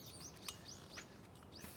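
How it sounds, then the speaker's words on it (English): Small birds chirping near the Osaka fish market: several quick, high tweets scattered over faint steady outdoor background noise, fairly quiet and with no talking. "I've upset the birds."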